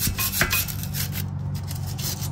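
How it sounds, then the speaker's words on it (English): A rag rubs rust off a car brake rotor on a Mitsubishi Eclipse, a close, dry scrubbing sound in short back-and-forth strokes. "Just gonna wipe all this down right here, all this rust part."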